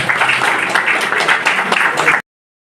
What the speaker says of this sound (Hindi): जोर से ताली बजनी चाहिए।